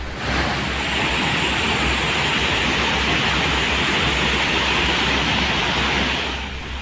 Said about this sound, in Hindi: ऐसा लगता है मानो इस झरने से पानी का विस्फोट हो रहा हो।